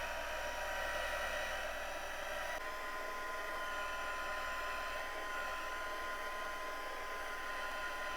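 Steady, loud whirr of a heat tool drying a handmade masculine slimline card, running continuously with a constant pitch and no talking.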